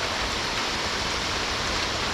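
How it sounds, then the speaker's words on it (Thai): Steady rain pours down outdoors near a small hut in a fishing spot, a dense, even hiss of falling drops with no pauses and no voices. "ฝนตกนะครับ หลบ หลบฝนก่อน"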